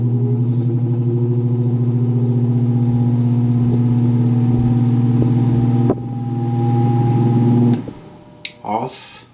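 A GE Vortex fan running at high speed gives a loud, steady motor hum with a tonal whine. It runs unchanged for most of the clip, then drops away near the end into a few brief handling clatters.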